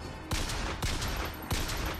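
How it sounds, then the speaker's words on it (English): A turret firing in the shooter game BioShock Infinite, three loud, punchy bursts about half a second to three-quarters of a second apart over a steady rumbling background. "Oh, it's a bloody turret over there."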